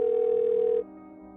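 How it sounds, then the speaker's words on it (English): A telephone line rings out during a call to emergency services: a single steady, unbroken tone lasts just under a second and then stops, with no voices. "As the phone rang"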